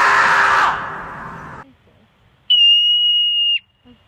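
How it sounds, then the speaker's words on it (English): Marmot giving a piercing, steady whistle-like scream lasting about a second, loud and close, after a burst of broadband rustling noise and a short silence. "These guys are also famous for their scream, which has gone viral on YouTube and other social media platforms throughout the years."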